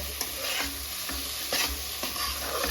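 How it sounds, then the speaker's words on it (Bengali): Spice masala for a crab and potato curry stir-fried in oil, a close, steady sizzle with a spatula scraping the pan in a regular rhythm of strokes, no voices. "আর এটাকে আমি ভালো করে কষাবো"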